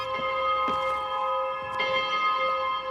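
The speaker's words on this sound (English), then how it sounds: "Oh, that's a good bell noise." A bell rings in the video game Spiritfarer, with sustained tonal ringing that persists throughout, plus a few brighter strikes layered on top and no speech.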